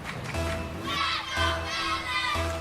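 Crowd at an esports showcase chanting and cheering in rhythmic bursts, a dense roar of many young voices rising and falling across a few repeated pulses.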